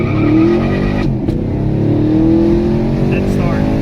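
A 2019 Chevrolet Camaro SS with a 10-speed automatic accelerates hard from close by, its loud engine note climbing and shifting, with voices talking over it.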